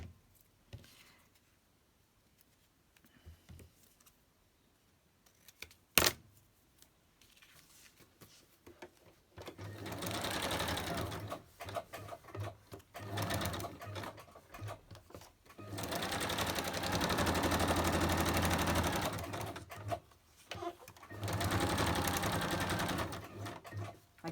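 Sewing machine stitching around an appliquéd fabric tag shape, running in several sustained bursts of rapid whirring separated by short pauses and quiet handling noises, close and moderately loud.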